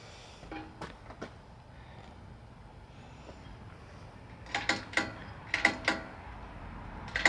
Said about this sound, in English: And the latch is really nice too. You don't have to slam it the way I just did it.